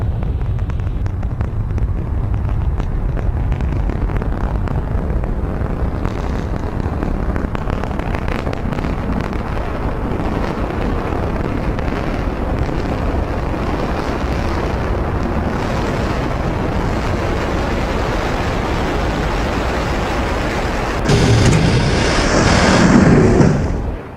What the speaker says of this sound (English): Stage 1 landing burn